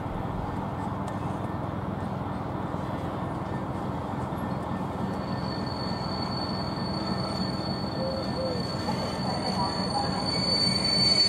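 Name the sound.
Freightliner Class 66 locomotive hauling a tanker train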